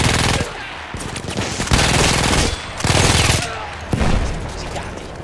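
A prototype gun in the video game Battlefield 1 fires in rapid automatic bursts, three or four loud, close volleys separated by brief pauses.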